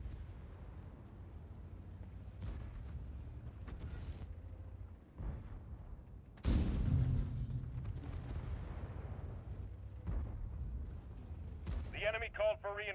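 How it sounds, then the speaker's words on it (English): Artillery barrage in the tank game World of Tanks during the Road to Berlin mode: heavy booming impacts and a big blast midway over a rumbling low battlefield bed, with voices talking throughout. "Starting artillery barrage now."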